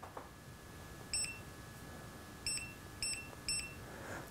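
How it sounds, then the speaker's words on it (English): Four short, high electronic beeps from an ANCEL AD410 OBD2 scan tool sound at irregular intervals over a steady background hum, close and clear. "Let me see if I can turn off the beeping."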